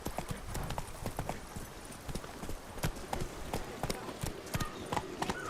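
Roach, the horse in The Witcher 3 video game, gallops with steady rapid hoofbeats that stay close and clear, with faint ambient game sounds beneath.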